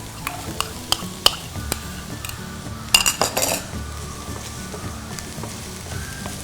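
Chopped capsicum and onions are sauteed over high flame in a pan, with a spatula clinking and scraping against the metal in irregular close taps over a soft, steady sizzle.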